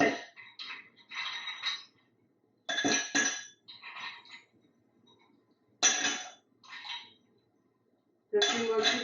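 Ice cubes, about five or six, dropped into a 12.5-ounce highball glass at home, giving several bursts of clinking and rattling with short pauses between, close and fairly clear.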